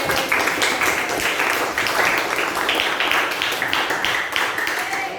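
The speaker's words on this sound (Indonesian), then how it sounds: "tepuk tangan untuk Tere" A class of students clapping together for a classmate, steady continuous claps of moderate loudness, sustained without pause, no talk over it.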